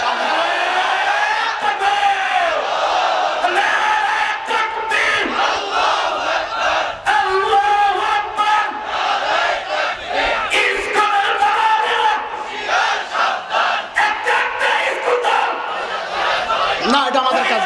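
A large crowd at a rally chants and shouts slogans in unison, loud and rhythmic, with surging call-and-response voices and whoops continuing throughout.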